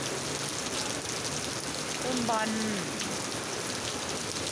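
Light rain falls steadily on trees in a constant soft patter, with a brief bird call partway through and a voice speaking faintly underneath.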